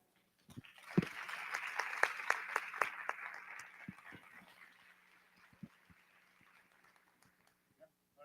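An audience at a creative festival gives a round of applause, with moderate, somewhat sparse clapping that swells after a sharp first clap and then fades to scattered claps.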